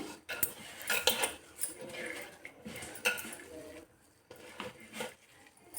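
Mustard greens and black-eyed peas being stirred in a pan with a metal spoon, a quiet, irregular series of clinks and scrapes against the pan.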